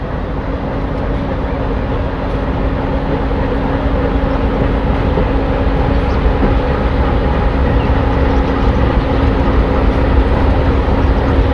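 Continuous loud rumble of the Rajkot–Porbandar local passenger train with brand-new coaches pulling away from the station, a steady low roar with a sustained hum and no break or voice throughout.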